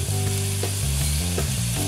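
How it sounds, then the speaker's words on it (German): Bacon frying in a pan while spaghetti carbonara is made, a steady close sizzle with a loud constant hiss and some stirring, no voices. "Speck hier ist am Brutzeln"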